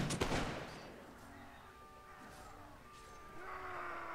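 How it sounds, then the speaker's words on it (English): Rifle volley in Mount & Blade Warband: a sharp crack opens, followed by scattered gunfire and rumbling battle noise across several seconds, moderately distant, with no talk. "Rifles, fire at will."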